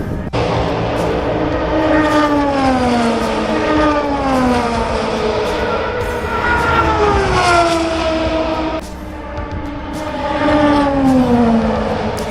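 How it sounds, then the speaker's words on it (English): Race cars scream past one after another on the long Hunaudières straight at Le Mans, loud engine notes rising and falling in pitch as each passes close by. "Here on the straight, it's much easier to hear the sound differences of the different cars"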